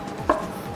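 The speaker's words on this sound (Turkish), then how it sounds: "Domateslerden sonra salatalıkları da küp küp doğruyoruz" A single crisp knife chop on a cutting board while cucumbers are cut into cubes for a Bulgarian salad; one close, sharp stroke with no talk.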